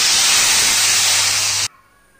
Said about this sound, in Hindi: दाल पर ऊपर से ये तड़का डाल के एकदम से दाल को ढक दें